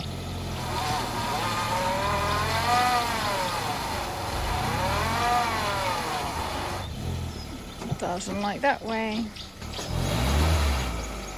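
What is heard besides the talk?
stuck hire car engine revving, trying to get out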